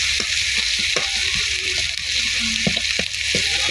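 Fish frying in mustard paste in a pan, a steady sizzle running under irregular scrapes and knocks of a spoon stirring, close and fairly loud.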